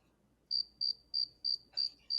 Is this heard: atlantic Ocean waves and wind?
no